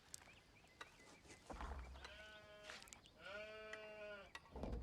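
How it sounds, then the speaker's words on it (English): Two drawn-out sheep bleats from the video game Age of Empires IV, one after another, clear and fairly close, over a soft background with a few scattered clicks. "Once you hear the sheep, you know you're in the game"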